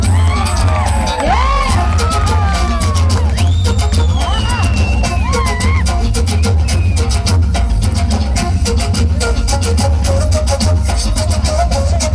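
Loud wedding crowd clapping and cheering with whoops and shouts, layered over pounding music with a heavy bass beat and a singing voice, continuous throughout.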